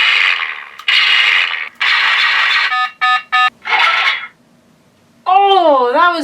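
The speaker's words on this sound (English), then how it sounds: "the same sound effect from the Republic Commando games" Toy blaster plays a reload effect taken from the Republic Commando games: harsh noisy bursts, a quick pair of clipped electronic beeps, then a pause and a warbling, swooping synthetic tone, loud and close.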